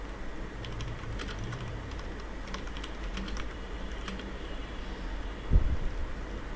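Keys clatter on a computer keyboard while text is entered into a PowerPoint slide, a soft scattered run of light taps over a steady low hum, with one louder knock near the end.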